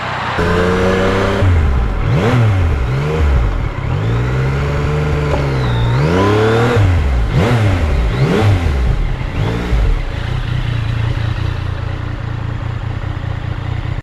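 A Yamaha MT-09 motorcycle is ridden at speed on a long, flat road back to a farm. Its engine sounds loud and close, with the pitch repeatedly rising and falling as the rider works the throttle, and steady wind rush underneath.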